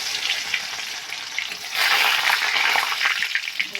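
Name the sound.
chopped garlic frying in oil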